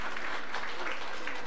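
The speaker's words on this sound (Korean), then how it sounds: "축하의 박수 합시다." Congregation applauding during a Sunday church service, a steady wash of clapping sustained throughout the short moment with no voices over it.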